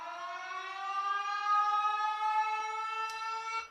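A siren sample from a DJ software sample bank plays on its own as a loud, steady, harmonically rich civil-defense style tone that swells slightly and then holds before cutting off.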